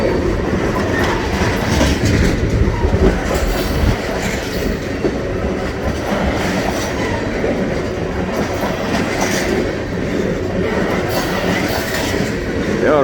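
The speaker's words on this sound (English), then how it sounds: "It's probably a good 2 mile long train here." A long freight train of grain hopper cars rolls steadily past nearby through mountains, with continuous loud wheel rumble, rhythmic clickety-clack over rail joints and a faint wheel squeal near the end.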